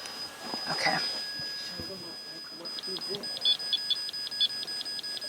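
A ghost-hunting meter being reset at an investigation in Lodi, California gives a rapid series of short, evenly spaced electronic beeps, close and fairly loud, after some quiet talk in the room.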